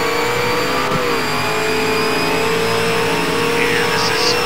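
Race cars in a Gone Broke Racing event battle wheel to wheel for second place, engines screaming loud and steady with shifting pitch as they run close together.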